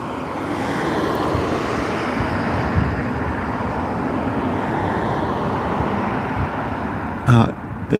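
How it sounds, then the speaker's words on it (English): Constant broadband roar of traffic passing on a busy road, loud and steady, with a brief thump near the end. "Cars make a hell of a noise, they do. Unfortunately, it is quite a busy main road as well."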